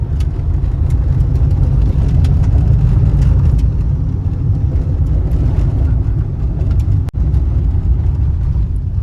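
A 2011 Ford Figo petrol car with about 65,000 km on a test drive gives a steady, loud, low engine and road drone throughout, with no talking.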